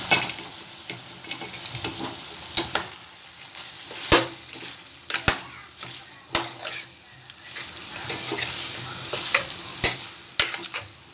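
Mutton coated in masala with Kashmiri chilli powder and home-ground garam masala fries in a pan, a close sizzle broken by repeated sharp scrapes and knocks of a spoon as it is stirred.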